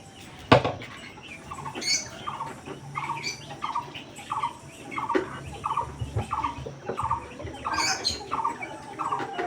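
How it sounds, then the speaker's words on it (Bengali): Pigeons at feeding time give a run of evenly spaced calls over several seconds, with a sharp knock near the start and faint rustling throughout. "চলো আমরা সবকটা পায়রাকে খেতে দিয়ে দিই বন্ধুরা"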